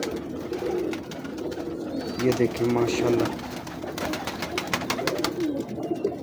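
Teddy breed pigeons coo softly in a loft, a few low murmuring calls rising midway while someone talks over them close by.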